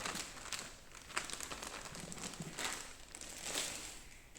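Packaging of an MSI Thin 15 gaming laptop crinkles and rustles continuously during unboxing, fairly close and steady for a few seconds with no speech.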